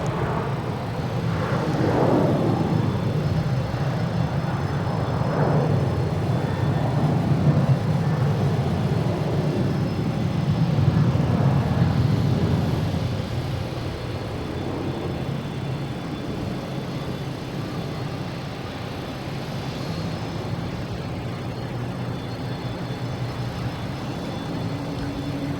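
Airliner taking off from Boston Logan, a broad steady roar heard from a distance. The rumble builds over the first half, then eases into a lower, sustained wash of engine noise.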